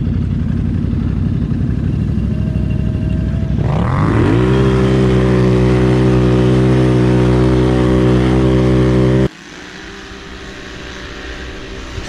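A Polaris Sportsman Highlifter and a Can-Am Renegade XMR ATV race in the snow, with loud, close engines droning and then revving hard into a rising, sustained roar that cuts off abruptly, leaving a quieter engine running.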